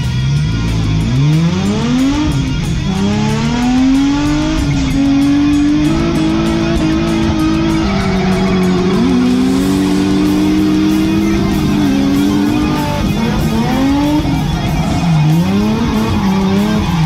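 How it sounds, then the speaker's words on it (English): A race car built for track use drives hard around a circuit, its engine loud and close with rising and falling revs through gear changes and intermittent tire squeal through the corners, steady and continuous throughout. "And then he let me drive his car"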